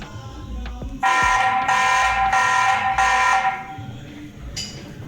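A TP-Link VIGI C440 security camera keeps sounding its alarm, giving four loud, evenly spaced siren-like blasts followed by one brief final burst, heard alone in a quiet room.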